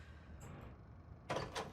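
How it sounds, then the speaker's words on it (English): A door opens in the video game Control, a faint mechanical whir followed by a louder sliding rush near the end, heard alone without talk. "It's a door"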